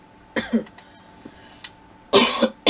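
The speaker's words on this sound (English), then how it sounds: "sorry about my cough" Several harsh coughs close to the mic, a pair at the start and a longer, louder burst near the end, with no talking.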